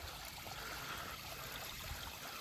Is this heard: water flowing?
yes